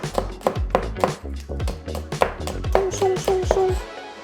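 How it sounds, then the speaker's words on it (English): A kitchen knife chops scallions on a cutting board in a quick, steady run of close, crisp taps, with a few sustained tonal sounds rising behind the later strokes. "now we're gonna chop up some vegetables. Chop up my scallion."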